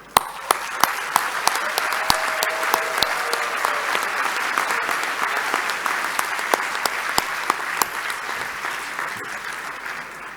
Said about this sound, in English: I would request the graduates to join me in a round of applause for all the family members and faculty